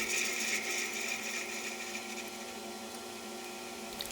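Wood lathe shaping the back of a chisel handle into a barrel form, a steady whirring motor with a continuous, fairly quiet cutting hiss throughout, no speech.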